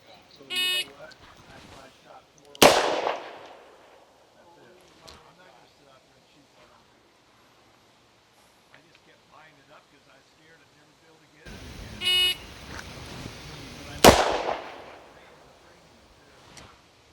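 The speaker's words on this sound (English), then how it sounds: "And here are the 3 shots fired from those 3 different stances using 2 different grips." Three revolver shots from a Model 19 carry comp, fired in two widely spaced sharp loud cracks, with beeping tones before each and quieter background sound between.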